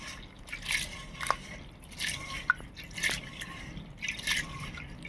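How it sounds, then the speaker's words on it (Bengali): Water is poured over lentils and the dal is washed by hand, giving irregular splashes, drips and squishy sloshes that are close and fairly quiet. "জলটা দিচ্ছি। ভালো করে চটকে ডালটা ধুতে হবে।"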